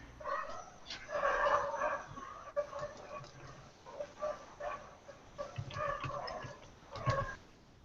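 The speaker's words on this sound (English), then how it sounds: "I'm hearing dogs again." Several dogs bark intermittently at a distance, faint and scattered across the whole stretch, with no talking over them.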